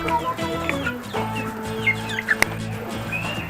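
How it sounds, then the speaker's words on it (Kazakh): Chickens at the Koktobe zoo, clucking close by in short irregular bursts over a steady background hum, with a sharp click partway through. "Тауықтар бұл."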